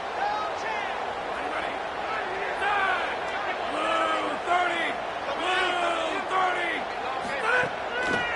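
Stadium crowd roaring and chanting in the College Football 27 video game, an LSU–Georgia matchup, a steady dense din with rising whoops and cheers under a commentator's voice.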